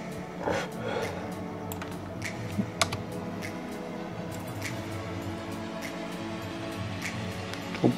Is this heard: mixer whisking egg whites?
no